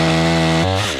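A chainsaw cuts a limb during a maple tree removal, its engine a loud, close, steady buzzing drone that dips in pitch partway through the short burst.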